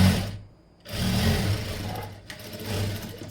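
Steady mechanical whirring of a sewing machine stitching a blouse seam, close and continuous, with a brief pause near the start before the motor picks up again and runs on.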